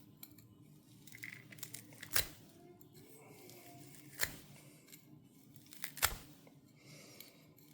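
EDC knife slices through three strands of rope, three sharp separate snapping cuts spaced a couple of seconds apart over faint rustling and handling.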